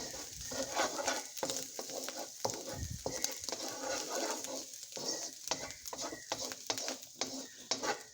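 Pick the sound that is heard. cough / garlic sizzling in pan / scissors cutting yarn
garlic sizzling in pan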